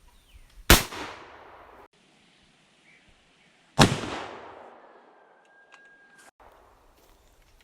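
An 1894 Winchester rifle fires 317 grain 38-55 bullets outdoors, two loud, sharp shots about three seconds apart, each trailing a long echoing decay.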